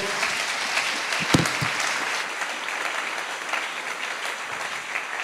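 A church congregation bursts into sustained applause, a dense wash of many hands clapping at moderate distance, with a few sharper nearby claps early on and a steady level to the end.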